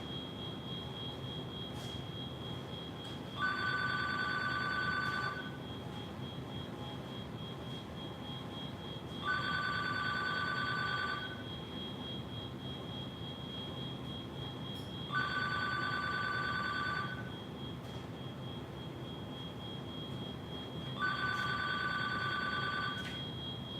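A telephone rings in four evenly spaced bursts of two-tone electronic trilling, each about two seconds long and roughly six seconds apart, over a constant background hum and hiss.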